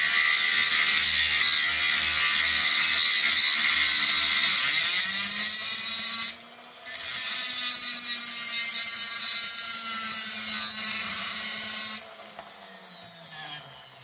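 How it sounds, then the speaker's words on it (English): A high-speed rotary tool cutting a bearing seat into a McCulloch piston, whining loudly and steadily, its pitch dropping as the bit bites into the metal, with brief pauses before the tool winds down. "I don't have to cut it super deep, but deep enough that my piston will, or my bearings will seat."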